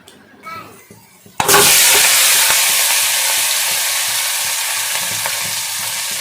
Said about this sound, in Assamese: মাছৰ মূৰা ভজা তেলতে মই থেতেলিয়াই লোৱা কেঁচা জলকীয়া আৰু নহৰু